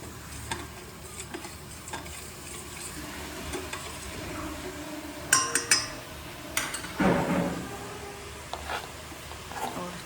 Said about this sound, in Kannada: ಒಂದು ಸೈಡಲ್ಲಿ ರವೆ ಸಹ ಚೆನ್ನಾಗಿ ಫ್ರೈ ಆಗ್ತಾ ಇದೆ.